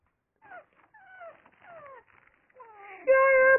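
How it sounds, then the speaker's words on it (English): A dog whines in repeated drawn-out, falling whimpers. Several cries come with short pauses between them, rising to a louder sustained whine at the end. It is close and heard alone, with no speech. "All that dog does is whine."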